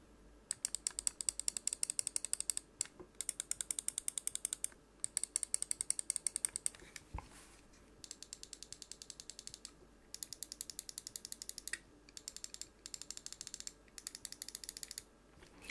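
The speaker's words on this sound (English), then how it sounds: "they're using the kind of Kailh 80 million click switches, which we'll give you a listen to now" Kailh 80-million-click switches on a Glorious gaming mouse click in rapid crisp bursts, close and clear, with short pauses between the runs and no talking.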